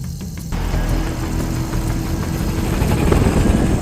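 A helicopter rotor and engine drone continuously at night in a film scene, a steady loud whirring throb that swells slightly toward the end.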